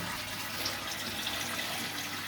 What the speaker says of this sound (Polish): woda z automatycznej dolewki dalej wypełnia tą komorę